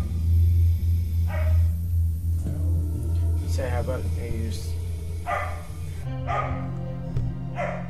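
A dog barks in short yips and woofs a few times, under a low steady hum and someone talking.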